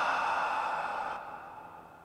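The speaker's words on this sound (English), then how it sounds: "It's kind of sci-fi bed sound effects, which are stacked up against this sample of me breathing out." A long breathy exhale layered over airy sci-fi synth bed effects, steady and close for about a second before the upper hiss drops away and the texture thins into a softer tail.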